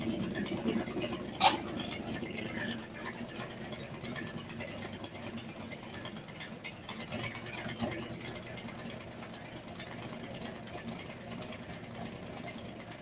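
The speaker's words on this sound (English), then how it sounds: "I think we'll sit here and let her idle warm up." A Ford 428 Cobra Jet V8 idling while warming up around 1100 RPM, a low, steady rumble held at moderate distance with a brief sharp knock early on and faint talk in the background.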